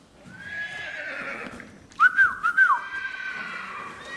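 A horse whinnies, a long, wavering neigh that builds through the first two seconds, then a person whistles a few bright notes nearby, with faint movement in the background.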